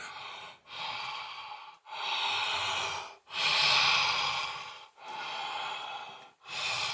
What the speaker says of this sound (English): Full deep body breaths.